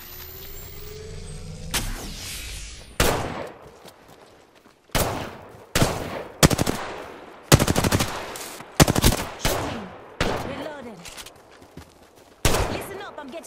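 Gunfire in an Apex Legends match: a dozen or so sharp, loud shots and short bursts at irregular intervals, each with a ringing decay, over a low vehicle-like rumble early on.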